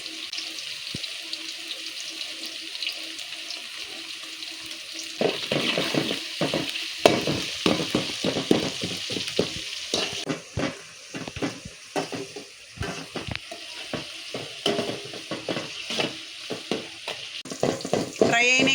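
Onions fry in a pan for chicken curry, with a steady sizzle that grows busier after a few seconds as stirring adds rapid scraping and clattering close by. Brief talk can be heard.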